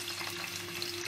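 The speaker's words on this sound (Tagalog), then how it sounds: "Ilagay lang natin yung bawang." Chopped garlic dropped into hot cooking oil for a Filipino sautéed shrimp paste with tomato, giving a steady, dense close-up sizzle with no voices.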